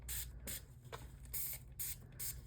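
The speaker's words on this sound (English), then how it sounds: "I'm spraying the paper," Spray bottle misting water onto paper for an art journal, several short hissing bursts in a loose rhythm, close and fairly quiet over a low background hum.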